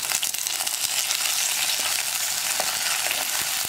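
Onions and curry leaves sizzle in hot oil in a pan while being stirred, a dense, continuous crackling hiss close up with faint scrapes and no voices.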